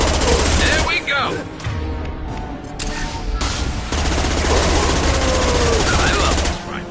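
Rifle fire in a video game, loud rapid bursts of gunshots close up with dense, continuous crackle and a brief lull in the middle, voices mixed in among the shooting.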